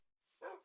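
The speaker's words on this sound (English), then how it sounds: "These dogs are sad." A dog gives a single short bark, close and moderately loud, after a moment of near silence.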